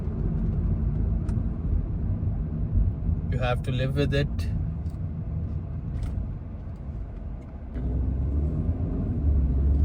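Low rumbling engine and road noise inside a car driving through city traffic in Riyadh, a steady drone that dips midway and then swells again, with someone talking over it.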